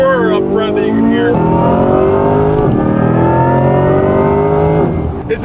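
Corvette C8 Z06 V8 engine on a race track, loud and close, holding a steady high-revving roar with rising harmonic sweeps, a brief dip near the middle and a lift off near the end.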